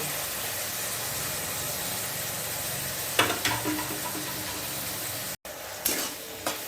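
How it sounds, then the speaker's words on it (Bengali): Chopped tomato fries with vegetables in a pan for a vegetable chow mein, making a steady near sizzle broken by clattering stirring strokes and a brief dropout midway, with nobody speaking. "এটা একটু টমেটো দিয়ে একটু ভেজে নিয়ে"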